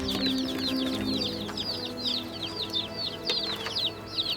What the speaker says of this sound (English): Sound of happy chicks, 21 chicks.